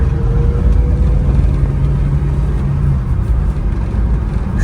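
A small Japanese kei truck engine runs steadily from inside the cab while driving, a low continuous rumble with slight shifts in pitch.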